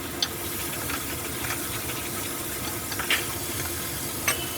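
Spices sizzling and frying in a pan for a fish curry, with black cumin tempering, stirred with occasional scraping clicks over a steady hiss; no one talks.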